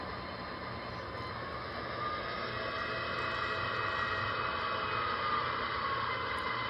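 MTH Christmas model train runs on 28 speed steps with a steady mechanical hum and faint rolling rattle that grows slightly louder, continuous and unaccompanied by talk.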